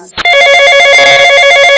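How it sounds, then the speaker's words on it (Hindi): A telephone in a Hindi horror story starts ringing loudly after a brief click, a steady electronic ring with a fast pulsing warble that continues without talk. "तभी वो अपनी बड़ी बहन श्वेता के पास फोन मिलाती है।"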